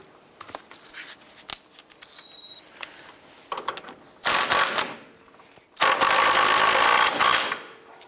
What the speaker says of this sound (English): Let's go ahead and tighten that nut down.